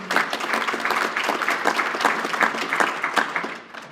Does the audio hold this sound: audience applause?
yes